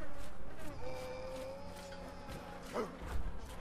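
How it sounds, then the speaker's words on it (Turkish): Flies buzzing over corpses in the war game Valiant Hearts, a thin wavering insect drone close by that rises and falls in pitch over a muffled background rumble, with a brief louder buzz near the end. "Cesetlerin üzerinde uçan sinekler."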